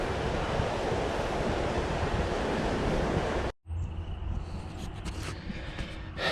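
A creek at flood stage rushes loudly and steadily, a dense roar that cuts out briefly, then resumes with a slightly lighter wash of churning water.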